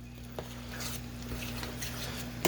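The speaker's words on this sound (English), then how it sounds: "And then we're gonna stir it up." A spoon stirs yogurt into a warm pot of homemade puppy food for a mastiff, giving soft, wet scraping and squelching strokes that run steadily and close, fairly quiet against a constant low electrical hum, with no talking.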